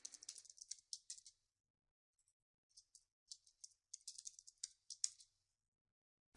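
Quiet, close computer keyboard typing in short bursts of rapid key clicks separated by brief pauses, with no talk.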